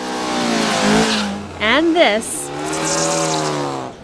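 A lightweight modified Volkswagen race car of about 1,200 pounds, with roughly 60 horsepower and a stripped interior, revs at a raceway event. The engine note rises and falls in quick sweeps, with a voice heard over it.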